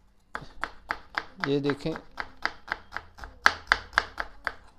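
Onions chopped finely with a knife on a board, a steady run of crisp, evenly spaced close taps with a short burst of a man's speech partway through.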